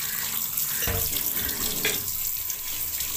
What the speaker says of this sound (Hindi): अब ओजरी को इस तरीके से धोएंगे कि इसमें से आटा बिल्कुल ख़त्म हो जाए